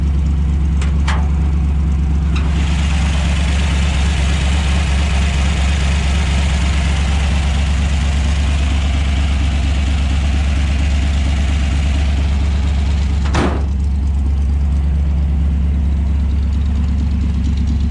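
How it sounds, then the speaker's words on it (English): A Dodge Dart GT with a 273 V8 idles steadily after a cold start, a loud, deep rumble with the solid lifter cam adding a constant rapid ticking and a couple of sharp clicks. "I love that solid lifter cam it's got. It makes it sound like it's falling apart inside the hood."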